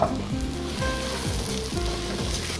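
Loud, steady sizzling of lentils frying with browned onion in a hot pan, with occasional scraping stirs, close by and without talk.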